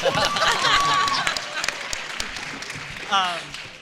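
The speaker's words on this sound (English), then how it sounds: "Let's give him a round of applause." Audience applause for voice actors at an Overwatch panel during an anime convention, a dense crowd clatter that swells loudly then gradually fades over a few seconds.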